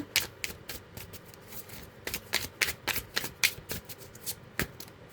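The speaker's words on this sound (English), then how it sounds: "Let's get a good shuffle here." A deck of tarot cards being shuffled by hand, close up, with a rapid run of crisp riffling clicks and flicks and no talking.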